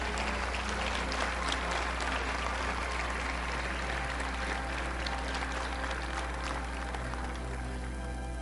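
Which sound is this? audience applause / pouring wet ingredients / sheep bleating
audience applause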